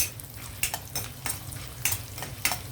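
Oil sizzles in a pan as a tempering is fried for tamarind-leaf pulihora. A steady crackle runs underneath, broken by several close scrapes and clinks of a stirring spoon, with no talking.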